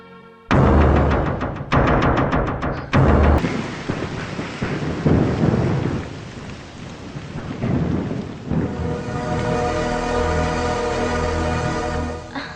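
A thunderstorm with heavy rain: loud cracking thunderclaps burst early on, followed by a dense, steady downpour that continues throughout, close and enveloping, with no voices.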